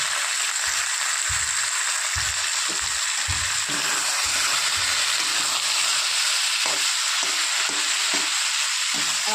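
Marinated hilsa fish sizzling in hot oil in a pan with fried brinjal, a loud steady crackling hiss with intermittent stirring and scraping knocks, no talking.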